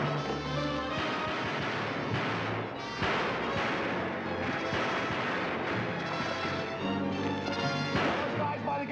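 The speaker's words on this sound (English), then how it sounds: "Stop firing. Maybe they're out of ammunition." A shootout in an old black-and-white film, with dense, continuous gunfire and heavy booming shots packed together under a loud soundtrack, with voices mixed in.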